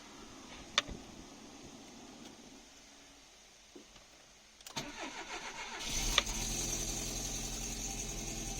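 An Alfa Romeo 33 is started after a quiet pause with a few clicks, the starter cranking briefly before the engine catches and settles into a steady nearby idle.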